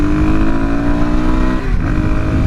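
Suzuki DRZ400SM single-cylinder motorcycle with an air box mod, its engine close and loud, pulling steadily under acceleration and then a brief pitch dip at a gear change before continuing.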